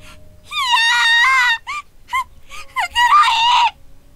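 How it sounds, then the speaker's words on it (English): A girl's panicked screams from the horror video game Corpse Party come as several loud, high-pitched wailing cries, the longest held for about a second, broken by short gaps and with no other sound around them. "Mitsuki's panicked screams brought me back to reality."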